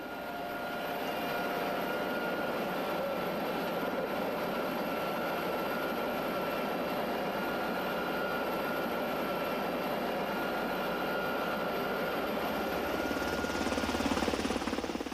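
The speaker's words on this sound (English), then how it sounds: "One of the Coast Guard's most modern weapons in carrying out this mission is the HH-65 Dolphin medium-range helicopter." A Coast Guard HH-65 Dolphin medium-range helicopter drones with a steady, loud turbine whine and rotor roar, continuous and near, swelling slightly toward the end with no one speaking.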